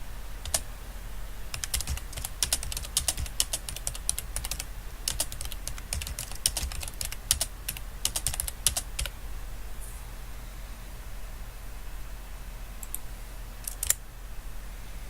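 Quick bursts of computer keyboard typing, clicky keystrokes in fast runs with short pauses, close and fairly quiet over a low background hum.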